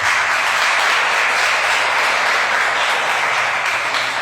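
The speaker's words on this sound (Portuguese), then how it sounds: "Vamos aplaudir Jesus?" A church congregation applauding during a worship service, sustained dense clapping from many people, loud and steady throughout.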